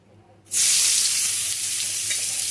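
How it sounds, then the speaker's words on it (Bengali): Chopped onion is tipped into hot oil and bursts into a loud, steady sizzle that holds for a couple of seconds after a quiet start, with no one talking. "তো দেখো পেঁয়াজটাকে দিয়ে দেবো তেলের উপরে"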